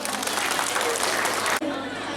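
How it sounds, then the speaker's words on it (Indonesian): Audience applause after a peacock dance performance at a coupon-drawing entertainment event, a dense, loud wash of clapping from a crowd that cuts off abruptly, followed by a quieter room with a voice. "tepuk tangan iderani"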